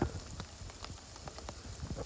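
Hail falling in sunshine on the Pacific Crest Trail in California's Sierra, a faint, steady patter of scattered small ticks and taps with no voices.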